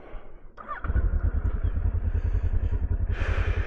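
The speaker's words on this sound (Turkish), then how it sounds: "Marşımızı da bir verelim." A Kawasaki ER-6n motorcycle engine cranks and fires up, settling into a loud, close, throbbing idle with a sharp hiss toward the end.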